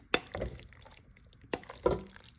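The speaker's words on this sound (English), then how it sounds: "I added probably about another 3/4 a cup of water" Water poured into a pot of thick homemade chili on the stove, heard as two short splashing pours with drips, close and moderately quiet, no talking.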